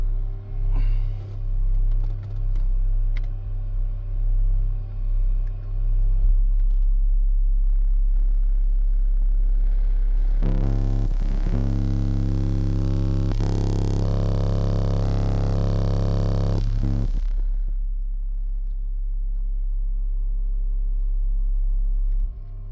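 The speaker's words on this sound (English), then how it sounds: "these are 0 dB test tones, and I got my amp tuned at -5" Loud 0 dB test tones play through a 12-inch Sundown ZV6 subwoofer in a custom sixth-order blowthrough SPL car setup. A deep steady tone throbs, then a louder buzzy burst rich in overtones runs for several seconds before the bass drone returns.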